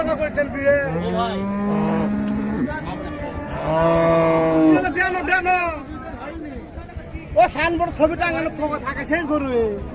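Several Friesian cows and calves moo loudly and repeatedly at a cattle market, long drawn-out lowing calls mixed with people chatting nearby.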